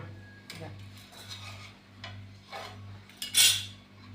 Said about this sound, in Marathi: भाकरी ही आता आपण पलटून घेऊया